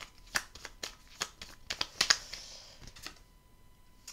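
Tarot cards shuffled and drawn at close range, giving a run of quick, light papery flicks and snaps with an irregular rhythm, fairly soft, with no talk over them.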